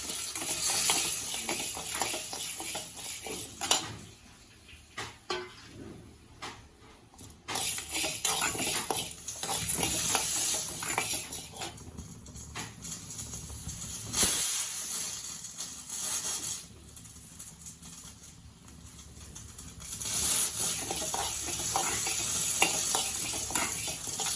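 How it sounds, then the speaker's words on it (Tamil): Chana dal, black peppercorns, coriander seeds and dried chillies dry roasting in a pan, heard up close as a steady dry rattling and scraping as they are stirred, growing louder and softer in waves, with no talking. "கடலைப்பருப்பு, மிளகு, தனியா, மிளகாய் எல்லாத்தையும் வறுத்து எடுத்துக்கலாம்."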